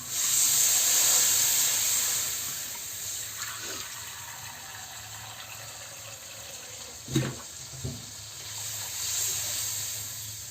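Water poured into a hot pan of frying vegetables, including eggplant, in a village kitchen sets off a steady sizzling hiss of steam. It is loudest at first and then settles, broken by a few close knocks of a utensil.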